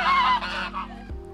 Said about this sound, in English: lots of geese